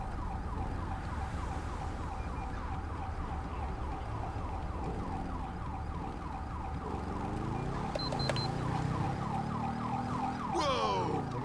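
Ambulance siren in the video game GTA 5, a wailing cycle repeating steadily throughout over traffic rumble, with a brief horn-like blast and a sharp clatter near the end.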